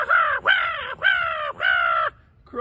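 A person's voice mimics crows cawing: four loud, harsh caws in quick succession, close up, followed by a brief start of a fifth.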